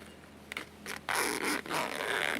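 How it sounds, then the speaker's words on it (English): An invisible zipper being pulled closed along sewn fabric, a close, soft scraping rasp in short uneven strokes that grows louder toward the end. "Now you can actually close your zipper."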